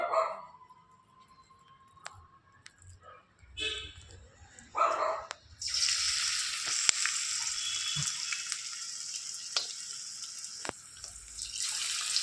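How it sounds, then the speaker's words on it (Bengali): Bora fritters drop into hot white oil in a wok and set off a loud, broad hiss of frying that takes over midway and keeps sizzling steadily, with scattered clatter and thuds before it begins. "কড়াইয়ে এদিকে সাদা তেল দিয়েছিলাম, গরম হয়ে গেছে। এখন আস্তে আস্তে বড়াগুলো ছেড়ে দেব।"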